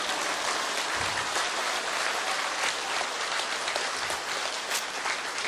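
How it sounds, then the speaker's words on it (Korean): An indoor audience at a Korean talk about social and cultural movements applauds, producing dense, continuous clapping that is loud and sustained across the whole stretch with no speech over it. "박수 안 쳐요?"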